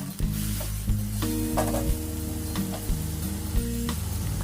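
Sliced pork sausage stir-fried dry in a hot pan for a basil stir-fry, sizzling steadily with repeated scraping stirs of the spatula, close and fairly quiet, no talking.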